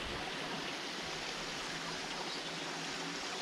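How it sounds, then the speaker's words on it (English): A river flowing beneath houses through an old stone archway gives a faint, steady rushing wash of water, continuous and unvarying, with no voices. "So the river must actually go under these houses now."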